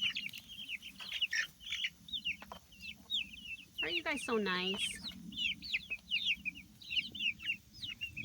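Backyard chickens clucking repeatedly at close range, with a louder burst of squawking midway and a person speaking briefly among them.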